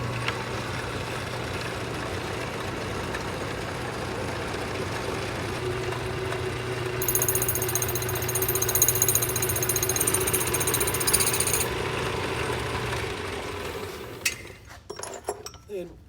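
Metal machining of a motorcycle headlight rim, likely on a lathe: a steady mechanical drone with a bright high whine of cutting partway through, ending in a few clanks and handling noises.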